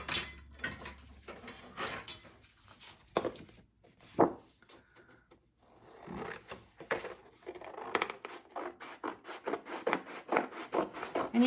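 Scissors cutting out paper pieces for a landscape collage, close, dry snipping and rustling in repeated runs of quick cuts, pausing briefly midway before a steady stream of snips resumes, with no talk.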